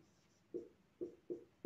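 Handwriting of a math formula, likely pen or chalk strokes, in four short scraping bursts with pauses between them, quiet and close, with no voice.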